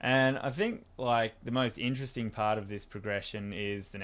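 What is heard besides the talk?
None of the usual background noises is heard.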